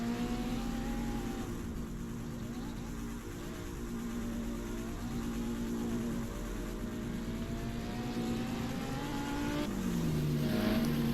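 A Dodge Viper running an autocross course at an event, its engine droning steadily and climbing in pitch as it carries speed through the turns, heard continuously from a moderate distance without any talk.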